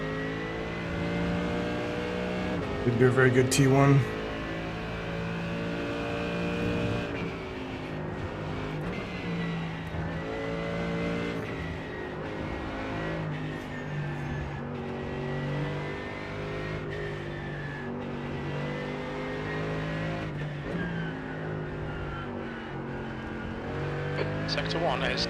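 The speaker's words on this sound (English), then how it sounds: "There's a faster car approaching." Race cars in a sim racing game, engines droning steadily and revving through gear changes, with one sharp burst near the start, heard alongside someone speaking.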